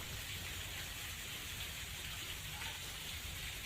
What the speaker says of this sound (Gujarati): ધારી, સરસિયા, ખોખરા સહિત આસપાસના વિસ્તારોમાં વરસાદની શરૂઆત થઈ છે